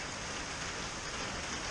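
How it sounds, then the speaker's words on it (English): Pouring rain on a fishing trip near Jacksonville, a steady dense hiss of drops hitting surfaces, continuous and even, with no talking. "as you can see, it's pouring rain again. I'll be yelling over the rain."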